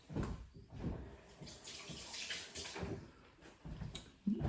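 Water runs from a kitchen tap while hands are wetted before folding sticky dough, a steady close splashing hiss with brief bumps and no talking.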